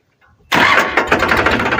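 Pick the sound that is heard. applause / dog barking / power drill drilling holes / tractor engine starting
tractor engine starting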